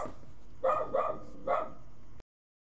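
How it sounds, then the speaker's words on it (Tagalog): Three sharp dog barks in close succession, fairly near, over a steady low background hum, then the sound cuts off. "ang ingay-ingay ng aso ko guys"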